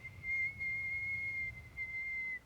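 A man whistles a steady, high sustained tone imitating strong wind whistling through trees during a storm by a lake at night, held for about two seconds with slight breaks, quiet and alone.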